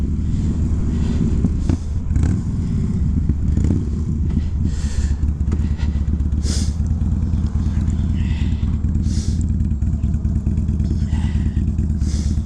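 A motorcycle engine drones loudly and continuously close by, its deep exhaust rumble steady with occasional clattering thumps and faint rattles.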